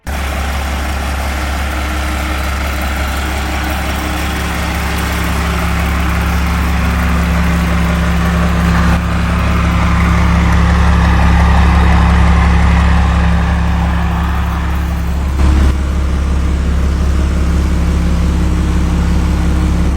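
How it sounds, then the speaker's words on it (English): A customized 1961 Mercury Comet station wagon with a 12-valve Cummins diesel drivetrain idles steadily, giving a loud, deep, continuous rumble that swells slightly midway, with no voices. "This 1961 Comet is a customized build featuring a 12-valve Cummins drivetrain."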